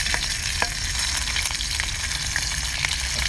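A big pot of king crab with scallion, ginger and chili sizzles and bubbles continuously. The sound is steady, dense and close, with no talk over it.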